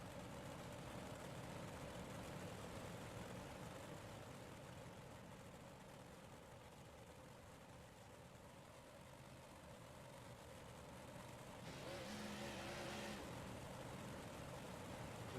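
Big block race cars on a dirt track ahead of a B main race, heard as a continuous broad, distant engine roar that holds steady and swells slightly near the end, with no voices.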